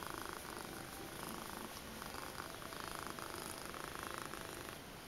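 A cat purring very close and steadily, a continuous soft rhythmic rumble that carries on unbroken for several seconds with no voices.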